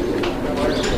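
Original European Toy Lahori pigeons coo in a low, close rumbling tone, with faint other sounds around them.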